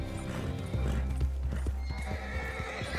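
Horse hooves galloping in a quick steady clip-clop rhythm with a loud whinny, from Red Dead Redemption 2 Online, close and prominent with no talk over it.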